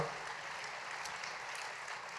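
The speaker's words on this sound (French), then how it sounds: "S'il vous plaît, un tonnerre d'applaudissements pour José et Maria." Applause from an audience at a New Year's greetings ceremony, a short, steady wash of many hands clapping without speech.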